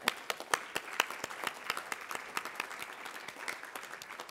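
An audience at the 2022 Oskar Fischer Prize ceremony applauds, with sharp, distinct claps ringing out over a lighter continuous patter of hands, moderately loud and steady for several seconds.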